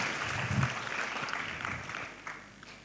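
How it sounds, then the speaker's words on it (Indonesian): Applause at a primary school graduation ceremony honoring the school principal, a crowd clapping steadily and moderately loud, then gradually fading toward the end. "Tepuk tangan untuk Bapak Kepala Sekolah"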